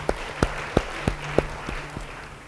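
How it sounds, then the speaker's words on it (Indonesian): A church congregation gives a short, sparse round of applause, a handful of distinct claps at a loose, uneven rhythm fading out over a couple of seconds. "Beri tepuk tangan bagi dia."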